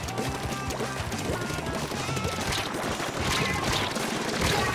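Turbo Blaster fire and explosions in Splatoon 2 online play, a dense, continuous barrage of loud bursts and blasts with layered game sound throughout, no voice heard.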